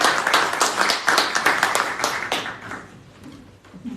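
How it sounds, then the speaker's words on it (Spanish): Audience applause at a talk on the 95 theses, a short burst of clapping that fades out after about two and a half seconds, leaving quiet room sound. "le damos un aplauso"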